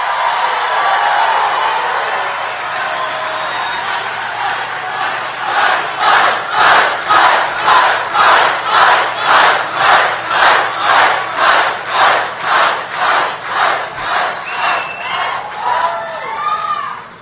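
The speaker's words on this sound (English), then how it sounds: "This is a great crowd." A large political rally crowd cheers and shouts, building from a broad roar into a loud rhythmic chant with regular beats about every half second, sustained for many seconds with no single voice standing out.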